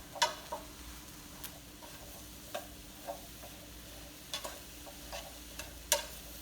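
An eggplant pasta bake mixture simmers in a pan with a faint, steady sizzle, broken by occasional soft ticks and light clinks spread across the clip.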